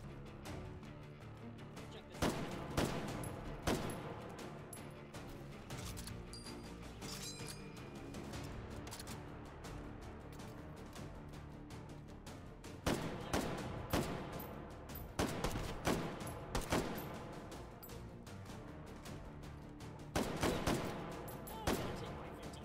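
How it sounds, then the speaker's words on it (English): Bursts of gunfire from weapons in the VR shooting game Hot Dogs, Horseshoes and Hand Grenades 2, with sharp repeated shots and rapid volleys over a steady mechanical background, clustered in several loud flurries. "I want y'all to see what it's like to shoot these weapons as well."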